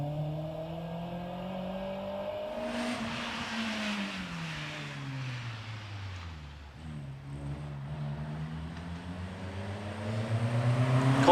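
An Audi RS6 with a V10 twin-turbo engine on a hillclimb at a rally event, its engine tone sweeping up and down through gear changes, then building to a louder, rising roar near the end; no voices.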